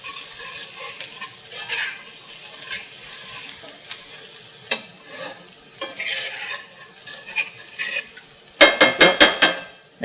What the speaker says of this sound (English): As soon as the butter is melted down, I'm going to add flour, and it kind of makes a little bit of a paste from the roux.